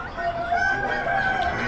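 At an Amish animal auction, a rooster crows among hens and turkeys. The call is a wavering, fairly loud cry over crowd murmur.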